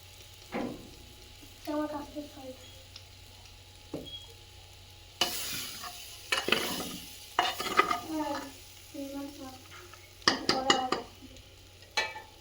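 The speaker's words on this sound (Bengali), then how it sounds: "সবজিটা সুন্দরভাবে মশলাপাতি দিয়ে কষাই করে নিয়েছি" Vegetables for dry khichuri are sautéed with spices in a pan, heard as intermittent scraping strokes and short sizzling bursts, fairly soft and close, with scattered utensil taps and no talk.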